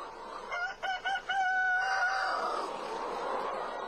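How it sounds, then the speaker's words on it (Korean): A poultry-farm rooster crows once, loud and close, its call rising in broken notes before stretching into a long, drawn-out cry. "양계장 수탉의 임무는 먹고 자고 하다가 생각나면 한 번씩 꼬꼬대에 타고 목청을 뽐는 일 뿐이랍니다"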